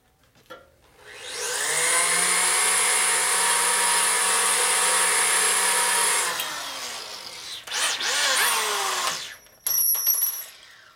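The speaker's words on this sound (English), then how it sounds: "That drill is terrible." A power drill whines steadily for several seconds while working on a motorcycle, then cuts off, followed by a few shorter bursts and some clattering.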